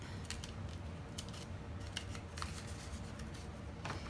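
Scissors snip through paper while a paper mouse is shaped with a rounded end, a series of quiet, close, crisp cuts at an irregular pace with no talk.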